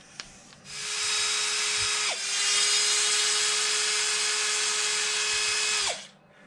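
A power drill pulls the motor screws out of a Traxxas X-Maxx radio-controlled truck, whining in two long, steady runs with a brief pitch dip between them, loud and close, then stopping abruptly.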